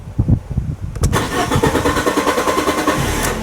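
A 2009 Fiat 500 Lounge engine cranks repeatedly with a rhythmic chugging before catching, then settles into a loud, rough idle close by.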